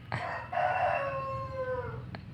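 A rooster crows once in the video game PUBG Mobile, loud and close, a long drawn-out call that trails off, with a brief click at the end and no talking.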